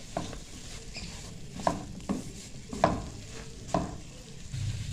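A spoon stirs chicken nugget filling seasoned with soy sauce in a pan, giving soft scraping strokes and a few louder knocks over a faint background sizzle.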